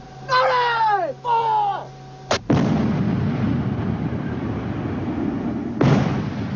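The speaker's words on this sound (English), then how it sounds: "When you fire this 105mm gun, the whole turret is filled with explosion" A tank's 105mm main gun fires with one sudden loud blast and a long rumbling tail, followed by a second heavy boom, after a brief burst of distorted voices.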